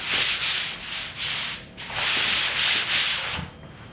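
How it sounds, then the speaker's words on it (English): Hands rub and sweep over the tack-clothed surface of a model airplane before it is covered in Monokote, making soft, close, papery swishing strokes in a steady rhythm, with no talk. "I just rub my hands over it"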